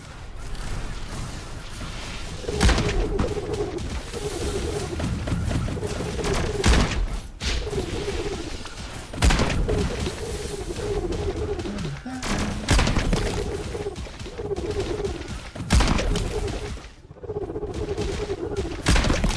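Gunshots in the video game Brew, a series of sharp bangs repeating every few seconds over a steady looping game backdrop.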